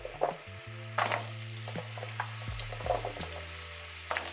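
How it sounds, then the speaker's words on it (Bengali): Pumpkin bhaji frying in a pan, a soft sizzle under several clattering stirs and scrapes, with a steady low hum behind it and no voices. "আজকে রান্না করছি মিষ্টি কুমড়া ভাজি"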